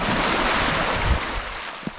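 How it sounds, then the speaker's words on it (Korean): Waves wash over a pebble beach on Yeonhwado island near Tongyeong, a steady close rushing surf mixed with wind, with a small knock of stones near the end. "돌 사이로 치는 파도 소리가 정말 좋아요."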